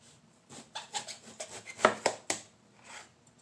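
A knife cuts eggplant into roughly half-inch slices on a cutting board, giving a quick series of close, soft crunching strokes that end in a few sharper thuds as the blade meets the board.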